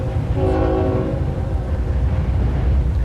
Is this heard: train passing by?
yes